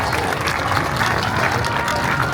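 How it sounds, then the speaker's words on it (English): Outdoor airshow crowd applauding a Blackpool flag-flying parachutist, a dense steady wash of clapping with some crowd murmur, loud and continuous throughout. "a big round of applause for our Blackpool flag flyer"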